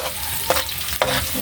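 Onions fry and sizzle in a pan, with a steady hiss broken by two distinct scraping stirs of a utensil, close and loud with no talk.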